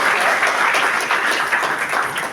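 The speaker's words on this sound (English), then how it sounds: "a big round of applause." Audience applause at a college event, a full, loud sustained burst of many people clapping together without a break, no voices on top.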